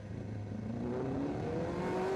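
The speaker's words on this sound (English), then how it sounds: "Just listen to the revs." A racing motorcycle engine revs hard as the bike exits the Melco hairpin during Macau Grand Prix practice, a steady, rising whine that climbs in pitch over about two seconds, loud and continuous with no talking.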